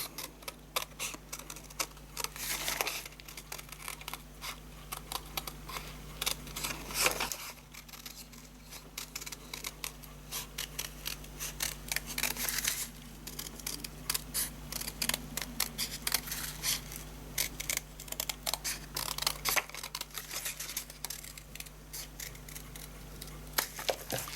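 Scissors cutting around a small domed card shape for a snow globe shaker card: a long series of quiet, close snips and paper rustles in irregular clusters over a faint steady hum, with no talking.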